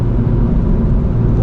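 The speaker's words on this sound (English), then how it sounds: "BRZ TS on track" A 2024 Subaru BRZ tS circles a wet Road America track, its engine a steady, loud low drone heard from inside the cabin, with road and spray noise rumbling underneath.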